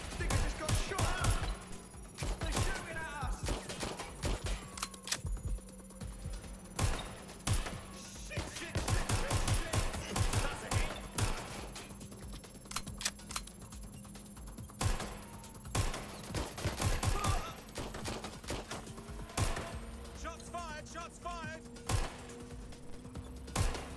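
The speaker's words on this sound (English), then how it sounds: "They're shooting at us!" Gunfire in the video game Watch Dogs Legion, with repeated sharp shots and bursts scattered through a busy action scene, loud and close, alongside game voices and effects.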